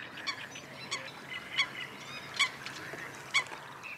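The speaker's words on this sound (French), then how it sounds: "Premier cri, celui d'un foulque, un petit palmipède au plumage noir." A Eurasian coot, a small black waterbird, calls from dense wetland cover, with several sharp, clear calls standing out at intervals, the loudest later on, over a faint background of other birds.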